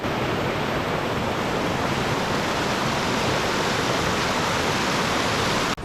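A steady, loud roar of falling water from a Costa Rica waterfall beside a hanging bridge rushes continuously, a dense unbroken wash of noise close by with no other sounds.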